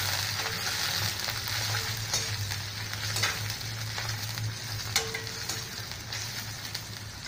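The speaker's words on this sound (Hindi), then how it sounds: "इसको भून देंगे आप" Cabbage and capsicum stir-frying in a pan for vegetable Schezwan rice, with a steady sizzle, repeated scraping and clanking from the stirring utensil, and a low hum underneath.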